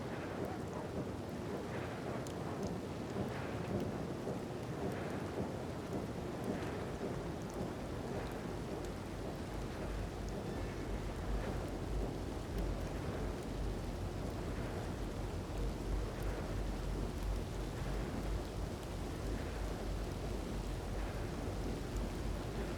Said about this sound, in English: Of course, it's raining and Lydia forgot to get her coat and jacket?